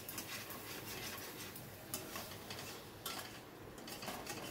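A masala curry being stirred in a pan, near the end of cooking with oil separated, gives steady scraping and clinking of a utensil against the pan, with a few louder knocks, and no talk.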